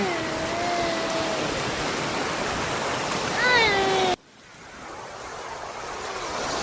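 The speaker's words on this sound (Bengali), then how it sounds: "আজকে সমুদ্রে প্রচুর ঢেউ আছে।" Rough surf breaks at Clearwater Beach in a loud, continuous wash of noise that swells, then drops abruptly before building again, with brief vocal tones over it.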